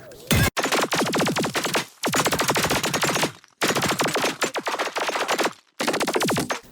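Imp weapon fire from Plants vs Zombies Garden Warfare 2, loud rapid zappy bursts in four long volleys separated by brief gaps, each burst a dense stream of fast repeating shots.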